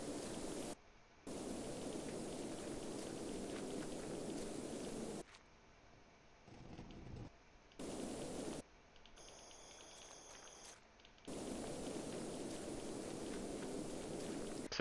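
Rain-like static hiss from The Last Door horror game, steady broadband noise in long stretches broken by brief silences and quieter gaps with faint tonal murmurs, no talk.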